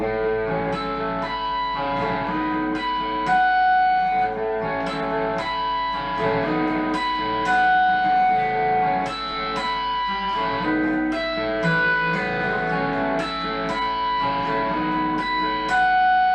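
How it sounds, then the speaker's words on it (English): Electric guitar picks chords in a steady rhythm, with bright ringing harmonic notes chiming in between, clear and close with no voices. "normal chords kind of being picked, and then you suddenly hear these harmonics kind of ping in there too"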